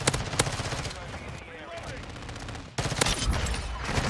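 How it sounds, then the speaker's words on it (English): Hydra cannons in a video game fire rapid bursts of loud, booming shots in quick succession, with a short pause partway through before the barrage resumes. "That's Hydra cannons."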